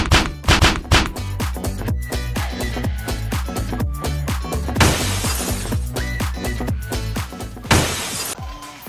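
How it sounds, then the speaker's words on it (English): Glass shatters repeatedly as poorly strapped panes fall and break, a series of loud crashes, smashes and thuds spread across the moment, with two especially bright, sustained bursts of breaking glass. "The straps were poorly affixed, and the result was thousands of dollars worth of damaged glass."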